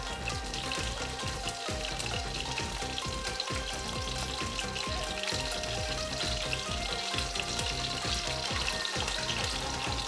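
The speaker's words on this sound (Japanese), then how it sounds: "裏面も3分ほど揚げ焼きにしていく" Chicken karaage pieces, marinated with ume plum, shallow-frying in oil in a pan: a steady, dense crackling sizzle that runs unbroken and close-up throughout, with faint low thumps underneath and no talking.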